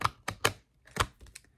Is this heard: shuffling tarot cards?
yes